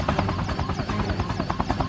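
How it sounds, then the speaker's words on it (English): A Mohawk combat helicopter in the 1996 PlayStation combat sim Black Dawn thrums with rapid, even rotor chopping, loud and continuous throughout with a buzzing engine whine. "This is a helicopter combat sim, putting you in the seat of a Mohawk combat copter."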